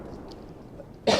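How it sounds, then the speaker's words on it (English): A single sharp human cough bursts out near the end, loud and close after a stretch of quiet room noise. "Had a cough real quick,"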